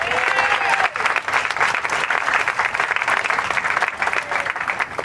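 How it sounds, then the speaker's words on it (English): Guests at a backyard BBQ party give a loud round of applause for Larry, with close, vigorous clapping from a small crowd and a brief voice calling out near the start. "I want everybody to give him a round of applause"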